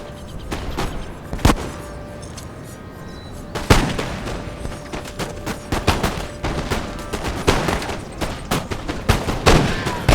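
Musket volleys crackle through a Napoleon Total War recreation of the Battle of Waterloo, with sharp scattered shots and denser ragged bursts repeating steadily across the battlefield at varied distances.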